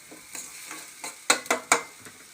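Thuthuvalai leaves sautéing in oil in a pan, a soft sizzle broken by several sharp scraping stirs, three loud strokes close together in the middle.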